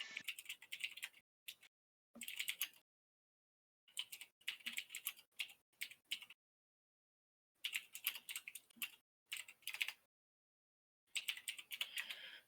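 A computer keyboard clatters with quick bursts of clicking and clacking keystrokes, close and fairly quiet, separated by short silent pauses throughout.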